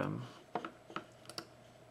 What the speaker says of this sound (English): so you can use your keyboard to type